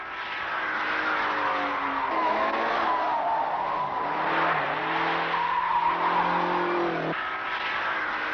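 Test cars run at the extreme limit of their tires on a test track north of Clermont-Ferrand, making a long, loud tire squeal with rising and sliding pitch over a droning engine, heard alone.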